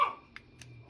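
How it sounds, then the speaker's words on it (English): A short dog bark at the start, then a couple of faint yips in the background, fairly quiet and distant. "Sorry if you hear the dog barking."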